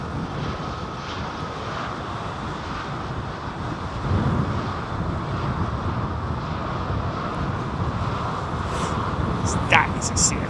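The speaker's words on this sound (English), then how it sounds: "That is a CFM 56 power plant." An airliner powered by CFM56 engines at Heathrow Airport produces a steady, broad jet roar that holds throughout, with wind buffeting and voices talking over it.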